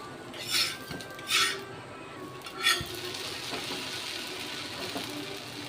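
A spatula flips a kal dosa on a hot pan, giving three distinct metallic scrapes and clinks spaced a second or so apart over a soft, continuous sizzle.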